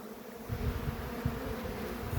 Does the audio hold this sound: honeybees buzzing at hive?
yes